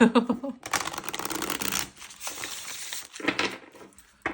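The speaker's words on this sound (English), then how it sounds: "One more shuffle." A deck of oracle cards is riffled and shuffled by hand at close range, a dense papery flutter in a few quick bursts with soft pauses between them.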